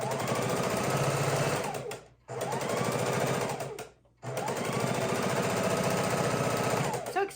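A sewing machine stitches raw-edge appliqué on a Halloween quilt in three long rapid runs of steady, rattling needle strokes, separated by two short stops, close up with no talk.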